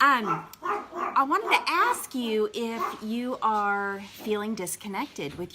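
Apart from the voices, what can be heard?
dogs barking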